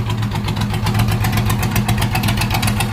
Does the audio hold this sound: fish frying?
no